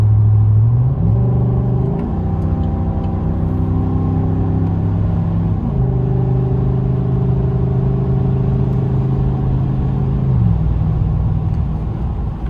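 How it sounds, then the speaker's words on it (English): A 2021 Chevrolet Silverado Custom Trail Boss pickup with a cold air intake idles with a steady rumble, its pitch rising and falling twice as it revs up and settles back down, noise mostly from the engine bay. "It's mostly just extra noise from the engine bay rather than exhaust."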